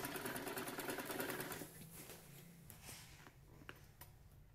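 A sewing machine stitches elastic onto an old gown, with a dense, rapid burst of close stitching at first that then eases into quieter, intermittent runs and small clicks.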